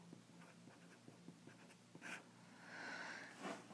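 Pen writing on paper or a board during a lesson, quiet rapid scratching strokes in short bursts, followed by a softer sweeping stroke and a tap.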